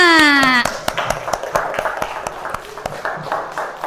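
A classroom of students breaks into rhythmic hand clapping in a religious studies lesson, sharp evenly spaced claps close up after a brief tonal jingle at the start, with voices chanting along.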